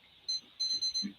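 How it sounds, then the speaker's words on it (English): An alarm clock gives a few sharp, high-pitched electronic beeps in quick bursts, heard close by before it is reset. "I just gotta reset my alarm here."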